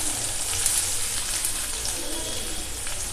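A medium-sized onion sautéing in a pan with garlic for beetroot thuvayal, a close, even, continuous frying hiss with little variation throughout.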